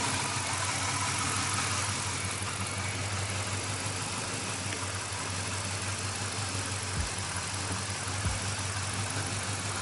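Car engine running steadily during a test drive around the block, a continuous mid-pitched hum with road noise and a couple of faint thumps, no talking.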